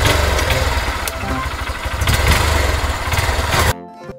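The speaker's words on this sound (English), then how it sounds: "Motorbike." A motorbike engine runs loud and rough and steady, then cuts off abruptly near the end, leaving faint music.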